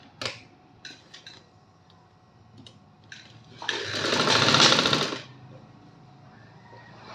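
Sewing machine stitching a one-year-old girl's gharara, a few short ticking taps followed by a loud, steady whirring run of stitches for about two seconds, then quiet.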